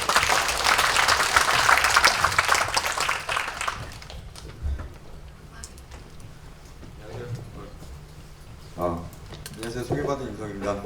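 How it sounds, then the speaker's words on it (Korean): An audience at a tech developer forum in Korea gives dense applause for about four seconds, which then fades out, leaving quiet room noise and a speaker starting to talk near the end. "큰 박수로 맞이해 주세요."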